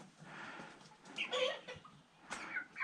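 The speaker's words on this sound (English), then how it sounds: "That was a rooster." A rooster in a chicken coop gives a few short clucks and throaty calls, fairly faint and close, in bursts separated by brief pauses amid soft barnyard background.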